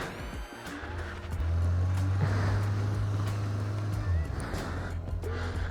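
A Yamaha XJ 600 motorcycle being ridden gives off a steady low engine drone that swells and holds as it pulls along, mixed with wind rush and road noise, moderately loud throughout.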